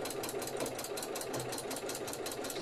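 A sewing machine stitching across a quilt-as-you-go needle case runs at a steady, fast rhythmic clatter, quiet and close, without pause for the whole stretch and with no talking.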